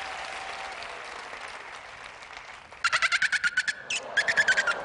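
A person imitates a dolphin call on a talent show stage, producing a rapid series of sharp, high clicking chirps in two bursts after a stretch of quiet room noise.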